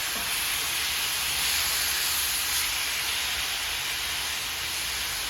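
Steak with onions and garlic browns in a hot pan, producing a steady, dense hiss that holds evenly from start to finish, close and moderately loud, with no one speaking.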